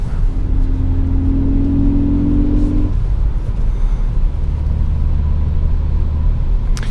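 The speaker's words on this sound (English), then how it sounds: "So obviously I feel that it would think that maybe I want to accelerate a little bit more before I shift" A 2017 Ford Focus ST in sport mode on a snowy, slippery road, engine droning steadily from inside the cabin with a rising tone that drops away after a few seconds, low rumble throughout.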